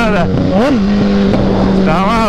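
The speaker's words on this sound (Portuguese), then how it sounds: "Zé Milzona acelerou o bagulho" A motorcycle engine revs loudly up close, its pitch rising and falling in quick throttle blips over a constant rumble, filling the short stretch without pause.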